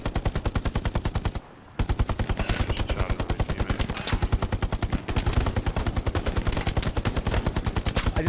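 Loud, sustained automatic gunfire in the WW2 shooter Hell Let Loose: rapid rhythmic machine-gun bursts that run almost continuously, with one brief pause and distant shots layered underneath.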